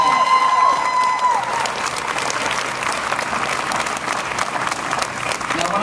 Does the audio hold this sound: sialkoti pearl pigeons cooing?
no